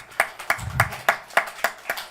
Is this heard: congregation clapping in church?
yes